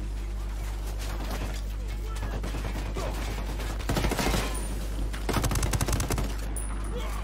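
Gunfire in the Ghost Recon Wildlands video game on PS4 comes as sustained rapid automatic bursts, with louder, denser volleys about midway and again toward the end.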